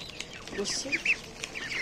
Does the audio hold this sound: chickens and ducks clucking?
yes